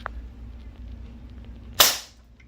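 A single close, sharp crack from a heavy-duty air rifle firing a .177 pellet outdoors, after a quiet pause with faint background hum.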